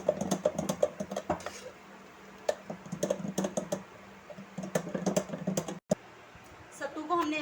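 A spoon stirs sattu powder into a drink, tapping and clinking against the glass in uneven bursts, close and fairly crisp, with a brief pause partway through.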